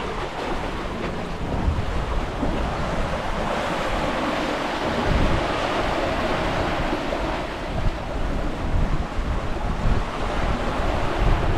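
Strong wind and rolling sea waves around a small sailboat on a solo Atlantic crossing in about 20 knots of wind, a loud, steady rushing roar with broadband gusts and wash throughout.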